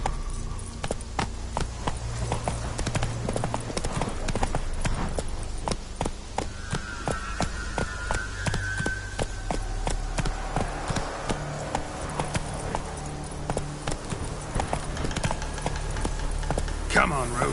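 Roach, the horse from the video game The Witcher 3, gallops with a fast, steady drumming of hoof beats that runs throughout, joined by brief tonal game sounds and a voice speaking partway through.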